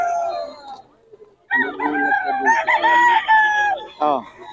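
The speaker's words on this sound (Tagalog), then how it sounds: "Daming manok." Several roosters and chickens at a market crow and cluck close by in overlapping bursts, with a short quieter gap near the start before the calls crowd back in.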